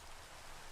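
Rain falls steadily in the video game Minecraft, a soft, even hiss of drops that is faint and continuous, with no voices.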